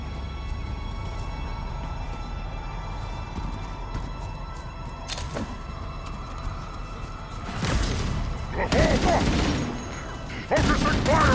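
Banshee fighters fire during Halo Campaign Evolved combat, with bursts of loud gunfire and explosive impacts over steady game ambience.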